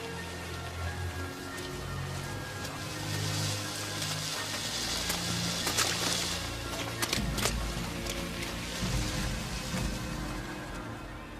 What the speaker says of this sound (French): Il y a de la pluie acide, dépêchez-vous.